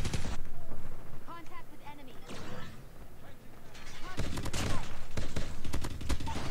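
Gunfire in the mobile shooter game COD Mobile, with bursts of rapid shots and impacts, a quieter stretch with chirpy effects in the middle, then a loud sustained volley near the end.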